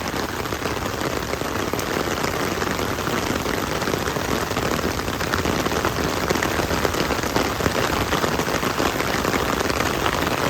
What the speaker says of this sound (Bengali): আপনাকে বৃষ্টি দেখাইলাম